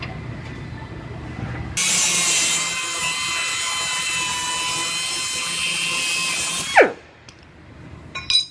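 A power cutting tool slices through a sheet metal panel during a Dodge Ram body repair, a loud, harsh, steady whine lasting about five seconds, then cutting off abruptly into quieter workshop noise with a couple of brief clanks.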